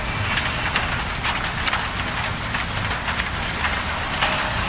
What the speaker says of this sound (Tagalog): Ito ulan. Basa.